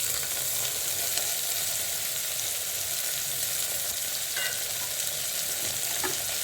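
Prawns fry in a pan with onion and chili, giving a continuous close sizzling hiss with a couple of light stirring clicks and no talk.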